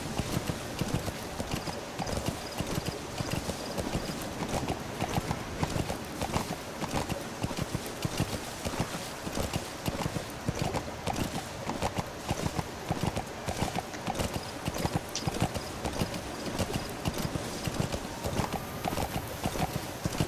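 A horse gallops at a steady, rapid clip-clop in the video game Metal Gear Solid V: The Phantom Pain, the hoofbeats loud and continuous for the whole stretch with only faint game ambience beneath.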